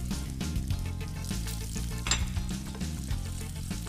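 Sausages and sucuk fry in a pan with a loud, steady sizzle throughout, broken by faint clinks and stirring scrapes, close up and with no talk.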